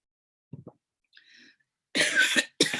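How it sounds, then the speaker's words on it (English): A person coughs under a fan blowing overhead: a couple of quick small coughs, a faint breath, then two harsh, loud close coughs. "I'm fixing to start coughing because there's a fan blowing over my head."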